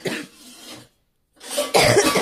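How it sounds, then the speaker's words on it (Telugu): Two harsh, close coughs from a person, separated by a brief silence, the second louder and more forceful. "మింగితేనే గుండె నుంచి గొంతులోకి వచ్చింది ఆ దగ్గు"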